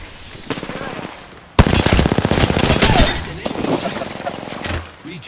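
Sustained automatic-weapon gunfire in a Valorant or Overwatch match, loud and dense, kicking in abruptly after a quieter stretch of lighter shots and rolling on as a rapid stream before tapering off.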